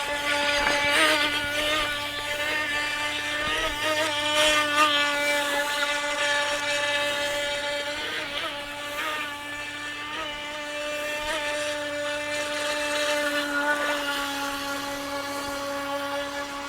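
A high-speed Intey H102 RC boat's electric motor whines steadily at a high pitch, loud and continuous, with slight pitch shifts as the throttle varies.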